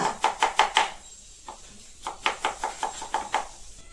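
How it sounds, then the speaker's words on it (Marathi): Onion being finely chopped with a knife on a board for mutton curry: quick, evenly spaced thuds in two bursts of about five strokes each, close and crisp with a short pause between them. "पहिला आपण या ठिकाणी कांदा एकदम बारीक चिरून घेऊया"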